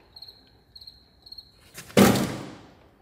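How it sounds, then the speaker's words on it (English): A cricket inside a truck cab chirps in three quick, faint, high bursts. Then a loud thump or slam drowns it out. "cricket in here that's driving me crazy"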